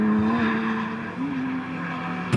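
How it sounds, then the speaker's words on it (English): A drift car spins out on a wet track at a Driftland Class 2 qualifying and battles event, loud sustained tire squeal and engine drone sliding in pitch, ending with a brief sharp burst. "he's spinning out in the wrong place"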